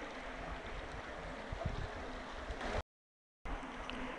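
River water rushes and splashes steadily outdoors at a quiet fishing spot, a continuous broadband wash, fairly soft, briefly cut off before resuming.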